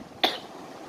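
A single short cough from a person, sharp and close, followed by quiet.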